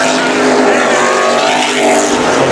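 Street stock race cars at Havasu 95 Speedway roar back up to speed on a restart, a loud, sustained engine drone close by, the pack's rising pitch nearly constant across the stretch.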